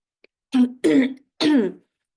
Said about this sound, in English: I'll be from time to time clearing my throat